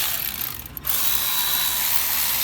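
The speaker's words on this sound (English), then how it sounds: "I always try to tighten it up in the middle first, just about 10 foot-pounds, just like that." A ratchet wrench tightening fuel injector bolts on a 6.0 Powerstroke diesel engine, giving a dense, continuous close-up buzz of clicks with one short pause near the start and no talking.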